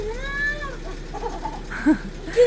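A house cat meows near the listener: a long wavering meow at the start, then a couple of shorter, sharper meows spaced apart.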